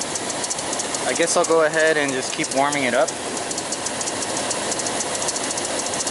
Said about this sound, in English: I wonder what this clacking noise is too.